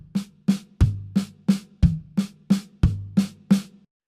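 Triplet accent figure on a drum kit, right-hand accents on the floor tom and left-hand accents on the high tom; steady sharp strikes with deeper, louder tom hits recurring in the pattern, close and unaccompanied.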